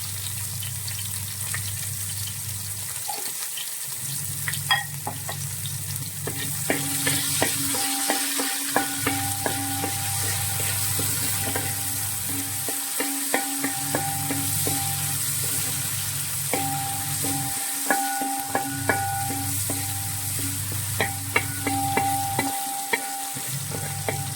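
Onions sautéing with salt in a pan for a chicken stew: a close, continuous sizzle with repeated stirring scrapes and clinks, interrupted by a few short pauses, with no voices.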